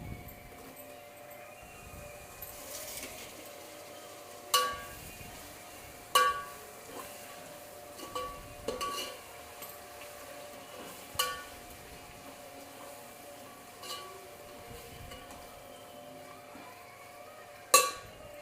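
Finely chopped tomato pieces are stirred in a pan for Andhra-style chicken pulao, with scattered sharp spoon clinks against the metal over a faint, steady frying hiss.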